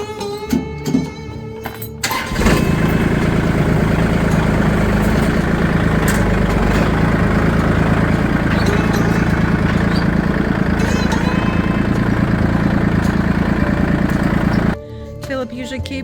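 A vehicle engine on an Ozark mountain homestead starts up after a couple of seconds and runs with a loud, steady, close rumble for about twelve seconds before cutting off.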